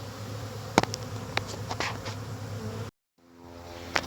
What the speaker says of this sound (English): See all the bees flying, wondering what the hell is going on.